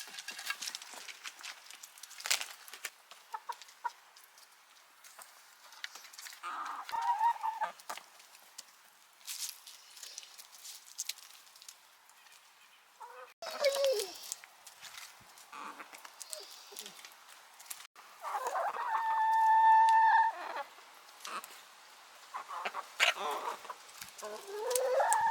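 Backyard hens cluck and squawk at their roosting area in intermittent bursts, with one louder drawn-out call near the middle, as someone talks softly between the sounds.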